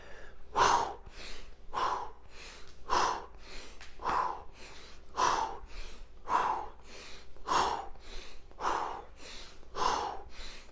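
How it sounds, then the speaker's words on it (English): Rhythmic forceful exhaled breaths during a home workout rotation exercise, about ten sharp puffs at a steady pace roughly one per second, close and clear with no talking. "Exhaling as you go to the side."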